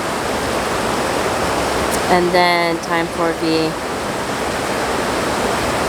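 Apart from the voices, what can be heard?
water falling over a small spillway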